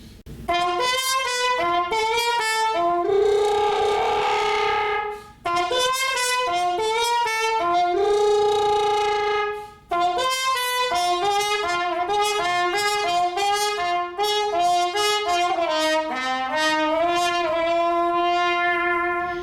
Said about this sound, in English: the last mute I'm going to show you is this toilet plunger